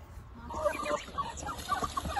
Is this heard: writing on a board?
no